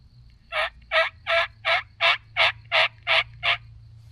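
Wild turkeys in Missouri gobble nine times in an even, rapid series, loud and close, with a low rumbling background beneath them.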